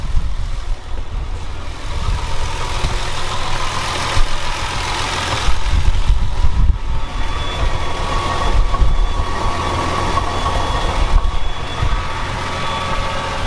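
Nissan GT-R Black Edition engine running, a steady loud idle rumble that swells slightly in the middle, close by with no talk.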